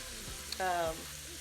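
A burst of sizzling as thinned liquid hits a hot pan while making fried rice, a loud hiss that swells briefly then settles into a softer crackle.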